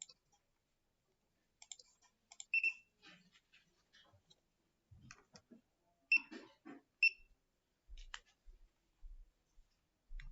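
An HCCTG i9 mobile POS card reader reads a contactless chip card, giving a scatter of soft clicks and ticks with a few short, sharp beep-like tones near the middle, all quiet and close with no talking.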